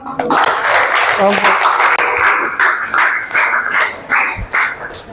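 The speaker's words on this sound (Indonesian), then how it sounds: "Kita tepuk tangan buat semua." Audience applause in a classroom session, a burst of clapping that continues steadily for several seconds with voices mixed in.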